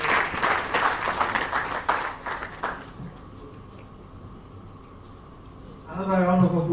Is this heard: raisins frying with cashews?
no